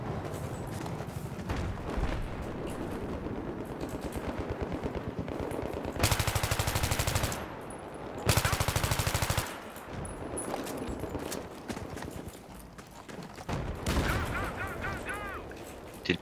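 Gunfire in Battlefield 3 on the Sharqi Peninsula map: long automatic bursts and heavy rattling volleys, some very loud and close, broken by brief lulls, with ongoing battlefield noise.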